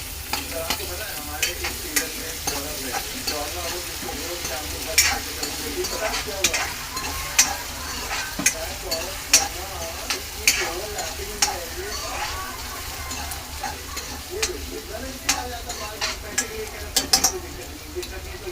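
Garlic and green chillies sizzle steadily in hot oil in a pan while a spoon stirs them, with repeated sharp scraping clicks against the pan throughout, close and fairly loud.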